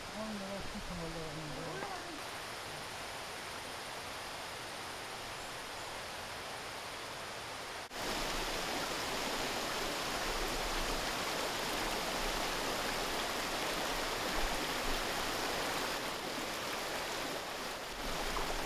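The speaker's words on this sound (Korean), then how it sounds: "숲 어디서나 들을 수 있는 경쾌한 계곡 물소리" A lively mountain valley stream flows through a fern-filled forest more than 1000 m above sea level, a dense, constant rush of water that swells louder midway, with a brief voice near the start.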